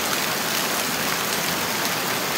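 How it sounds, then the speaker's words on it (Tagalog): Heavy typhoon rain pours down in a dense, steady roar of water hitting surfaces, loud and unbroken throughout, with no voices. "Sobrang lakas talaga ng ulan guys."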